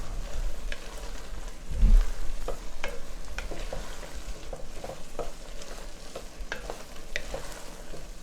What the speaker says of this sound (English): I'm gonna saute this a little longer